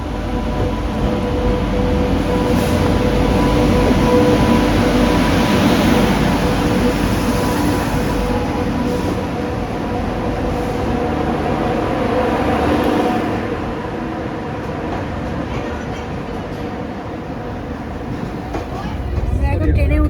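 Passenger train rolling along on the way from Bankura toward Puri, a continuous loud rumble and rattle of carriages with steady mechanical drone heard from inside, with speech mixed in.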